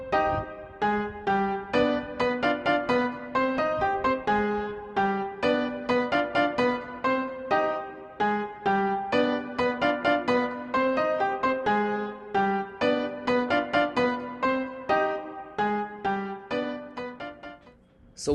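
Piano montuno melody from a Fuego VST MIDI pattern at 130 BPM in FL Studio, a steady syncopated stream of bright chord stabs and octave notes repeating without a break, alone and fairly loud.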